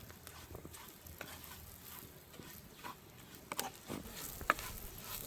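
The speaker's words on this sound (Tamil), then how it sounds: "இப்போ நாங்கள் வந்து மரக்கறி கருவாடெல்லாம் பொரிச்சு எடுத்தபடியாக" Vegetables and dried fish fry in a pan with onion and curry leaves, giving a quiet, steady sizzle and crackle with occasional soft stirring clicks and pops.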